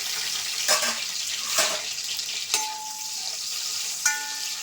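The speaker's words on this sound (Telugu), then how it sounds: "ఇప్పుడు ఉల్లిపాయ పచ్చిమిర్చి వేసేస్తున్నాను." Onions and green chillies tossed into a hot pan of fried biryani spices for mushroom biryani, giving a steady close sizzle with a few sharp stirring scrapes and clinks, no talking.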